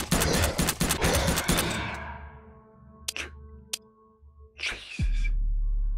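A rapid burst of gunfire crackles for about two seconds in the indie horror game Dark Places, followed by a few isolated sharp shots and a thump as the sound cuts off.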